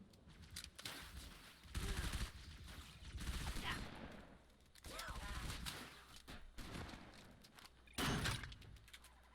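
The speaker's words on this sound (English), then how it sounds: "Shotgun." Halo 3 gunfire, a shotgun among it, booms out in several heavy blasts spread across the stretch, with rattling bursts and clatter between shots at fairly low overall level.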